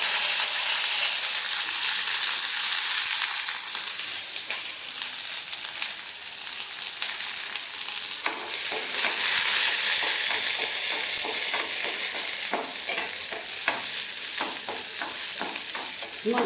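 Small shallots are lightly sautéed and stirred in a pan, a steady close sizzle with frequent scraping and stirring clicks throughout, no talk.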